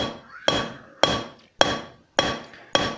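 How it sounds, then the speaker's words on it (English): A hand hammer beats a forged railroad spike against an anvil. Five sharp, ringing metallic strikes land at a steady half-second rhythm, loud and close with no voices. "use the anvil to hammer against"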